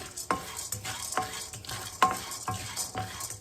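Chana dal and peanuts dry-roast in a pan for a dosa and idli chutney, with a spatula scraping through them in steady strokes about once a second, close and fairly quiet.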